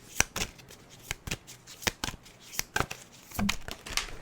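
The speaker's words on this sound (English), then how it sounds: "one more shuffle" Tarot cards are shuffled in quick, crisp riffling bursts, each flutter of cards sharp and close, with brief pauses between.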